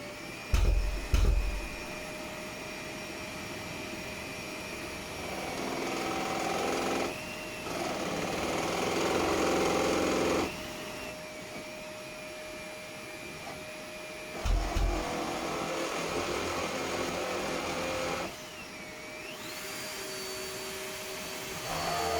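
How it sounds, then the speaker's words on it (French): A drill with a 10 mm bit bores through material in several bursts, a whining motor with a grinding tone. It rises and falls across separate runs, with clunks between them and a steady high hum underneath. "je vais venir avec mon forêt de 10 dans la marque de point de centrage que j'ai fait, et je pourrai finir de percer"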